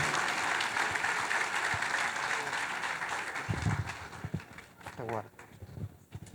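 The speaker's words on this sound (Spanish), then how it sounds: "ese aplauso para el Señor, que se oiga en los cielos" A church congregation applauds steadily for a few seconds. The clapping fades out as a voice begins speaking.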